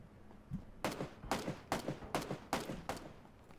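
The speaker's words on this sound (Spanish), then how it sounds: "escucho por ahí tiros, pero no veo nada" A series of sharp gunshots in the video game PUBG fires in an irregular rhythm, about seven bursts in a few seconds, faint and distant, with no talking.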